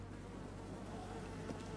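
Bees swarm and buzz in A Plague Tale: Requiem, a steady dense droning hum holding at an even level throughout, close and continuous with no voices.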